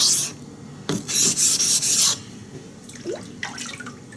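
Blade chip on a 3V Bravo1 being sanded by hand with 320-grit sandpaper, a close, bright rasping scrape lasting about a second, then softer intermittent strokes and faint wet sounds.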